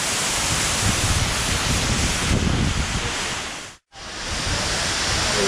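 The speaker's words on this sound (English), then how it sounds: "There's another little tiny waterfall right over there." A small waterfall in Santander, Colombia roars as a loud, dense, continuous rush of falling water close by, with one brief cutout before the steady wash resumes.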